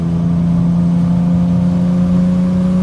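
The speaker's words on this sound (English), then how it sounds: "you add the side exhaust with headers that sounds fantastic" A Ford Mustang fitted with a Vortex supercharger, headers and side exhaust holds a steady, loud engine drone with a strong low hum and supercharger whine, continuous and close with no voices.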